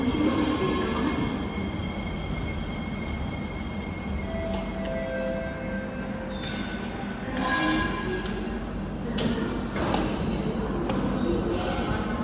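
A Kawasaki C151B SMRT metro train rumbles steadily into Jurong East station, with rolling wheel noise, faint squeals and occasional thumps, loud and continuous.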